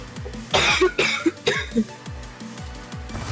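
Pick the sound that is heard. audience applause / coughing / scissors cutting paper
coughing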